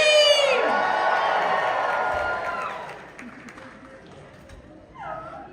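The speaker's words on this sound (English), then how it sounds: "go ahead and raise a limb and let me hear you scream!" A crowd at a Midsummer Scream convention livestream screams and cheers loudly at first, the roar gradually fading over several seconds, with a voice heard near the end.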